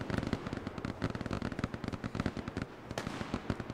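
Dense rapid blasts and crackling booms of an artillery bombardment in the WWII shooter Hell Let Loose, loud and continuous with irregular bursts throughout.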